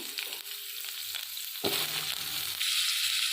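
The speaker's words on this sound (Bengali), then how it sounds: "আমি আলুটা ভেজে নেব" Potato pieces fry in a pan with a continuous close sizzle, a sharp burst of crackling near the middle as they are turned, and the hiss swelling louder toward the end; no voices.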